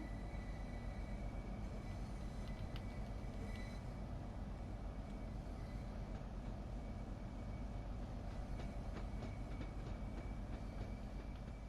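A six-car Hitachi-built Class 395 Javelin high-speed train in the Train Sim World 2 game runs steadily, giving a continuous rolling rumble and hiss with faint rail clicks, with no voices.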